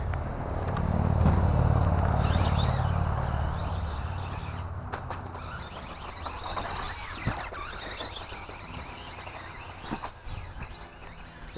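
A Tamiya Holiday Buggy RC car with a brushless Surpass Hobby 2845 motor, running on a track at barely touched throttle: a loud whirring drive swell early on that fades into a lighter buzz with scattered clicks and knocks, close by.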